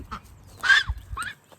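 Backyard homestead ducks on a small suburban lot give a few separate quacks, one louder burst in the middle between softer calls, fairly close and with no talking.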